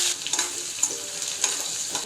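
Garlic pieces and green chilies sizzling in hot oil for a Gujarati tempering with asafoetida, a dense close crackle with a few sharp pops and spatula taps over a brief stretch.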